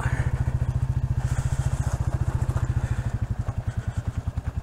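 A Caterham Super Seven rolls along a very gravelly drive at a cottage, its engine pulsing in a steady rapid thrum with crunching, clattering gravel beneath the tyres, close and continuous throughout.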